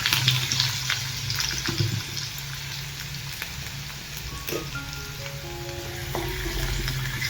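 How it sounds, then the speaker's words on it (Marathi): Onion sautés in hot oil with cumin in a pan, a continuous close sizzle and crackle with occasional stirring scrapes and brief tonal clinks later on, no talking. "कांदा पण आपण चांगला असा परतून घेऊया"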